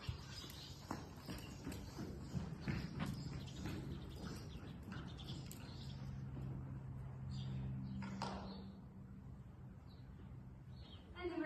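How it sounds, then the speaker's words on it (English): A horse trotting on a lead during a veterinary physical exam, faint rhythmic hoof beats with birdsong and a low hum in the background. "And then I'm going to ask for a little trot."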